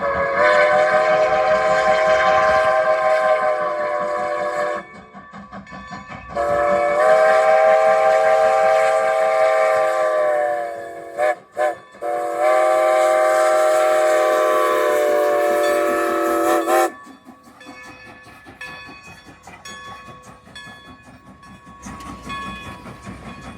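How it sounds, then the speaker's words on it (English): Strasburg Rail Road steam locomotive No. 90 arriving at the main station in Strasburg, sounding loud, long steam whistle blasts in three main bursts with a short break, then rolling in with rumbling and hissing. "This shot was taken at the railroad's main station, located in Strasburg, as number 90 pulls in."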